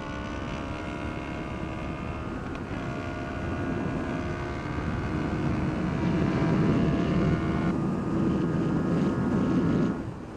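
A Ninja 400 and a Yamaha R3 motorcycle drone steadily through the gears in a drag race, the steady engine whine climbing and shifting pitch, heavy wind rush throughout, engines close and loud.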